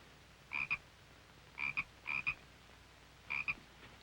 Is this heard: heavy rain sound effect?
no